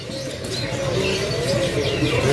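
Female AF-series canaries chirp at a bird seller's kiosk, with faint, scattered tweets high above a steady, dense bed of background noise and rustling.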